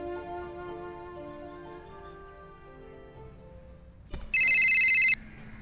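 A telephone rings with a short, loud electronic trill burst near the end, following a fading musical tone, with no speech.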